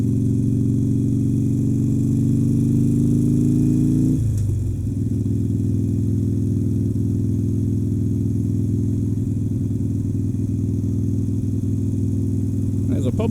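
A motorcycle engine drones steadily while riding toward Lake Monroe, its pitch sliding through a rev-matched downshift partway through, then holding a lower hum under a rider's talk.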